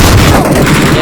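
A single loud, close gunshot from a video game, with a heavy booming report and a dense burst that fills the moment on its own.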